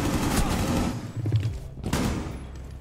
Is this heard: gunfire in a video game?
yes